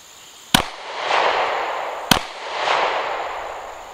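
An M&P Shield Plus pistol fires twice at a Harbor Freight padlock outdoors, two loud, sharp gunshots about one and a half seconds apart, each followed by a long rolling echo, with no talking.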